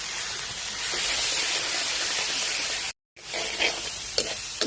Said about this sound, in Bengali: ভালো করে আমি চিংড়ি, নারকেল এবং সব ধরনের মশলাগুলোকে আমি কষিয়ে নেব